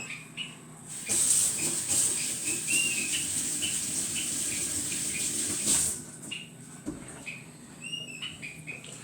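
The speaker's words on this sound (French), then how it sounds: "On va se laver les mains." Running tap water pours steadily while hands are washed beneath it, a continuous close hiss with faint splashes that stops abruptly near the end, leaving quieter clatter.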